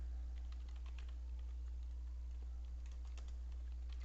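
Steady typing on a computer keyboard, quick soft key clicks in an uneven rhythm throughout, faint and close, with no voices.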